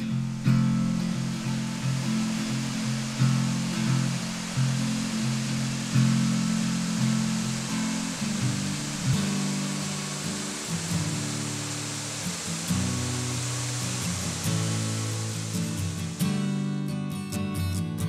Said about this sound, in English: Arriving at the first waterfall